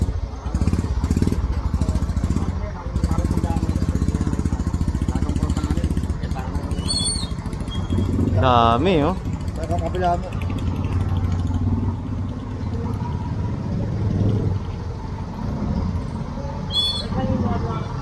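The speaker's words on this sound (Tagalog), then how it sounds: "Dami, puro motor." Many motorcycles run along a crowded barangay street, their engines droning and revving close by with clattering, a horn-like whine partway through, while people talk over the traffic.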